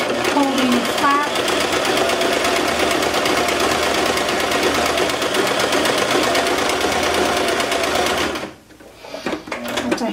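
A sewing machine hems track pants, stitching at a rapid, steady rattle for about eight seconds before stopping abruptly, followed by a few quieter handling noises.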